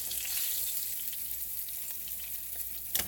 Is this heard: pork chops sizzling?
yes